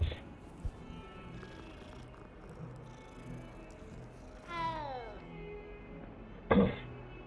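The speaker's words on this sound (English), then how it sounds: "always gotta pet the cats." Soft purring from a cat being petted in Hogwarts Legacy, a quiet rumble running under faint game ambience, with a brief meow-like rising call midway and a sharp short sound near the end.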